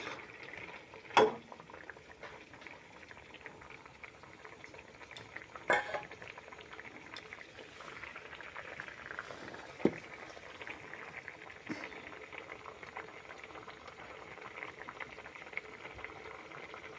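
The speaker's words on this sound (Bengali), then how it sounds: "কিছুক্ষণ সিদ্ধ হতে দেব।" Rui fish curry bubbles steadily in a pot, a soft continuous simmer with occasional louder pops and clinks, quiet and close with no talking.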